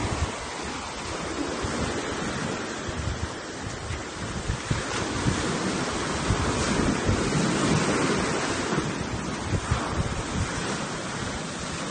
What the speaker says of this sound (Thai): มาดูชายหาดกันครับ